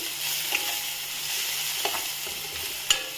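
Mushroom gravy masala with coriander powder and garam masala frying in a pan, an even hiss of sizzling oil with a few light spoon taps and scrapes, close, no speech.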